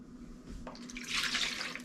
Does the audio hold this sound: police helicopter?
no